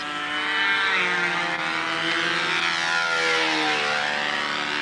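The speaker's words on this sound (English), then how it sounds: "Anyway, this is a really old plane too." An old model airplane flies steadily overhead outdoors on a windy day, its engine giving a loud continuous drone that rises and falls in pitch as it passes, with no talk.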